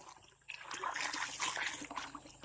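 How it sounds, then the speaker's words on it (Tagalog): Water from a natural spring trickles and splashes steadily close by, a continuous bright babbling flow that swells after a quieter start, with no talk over it. "Bukal, guys, ang tawag."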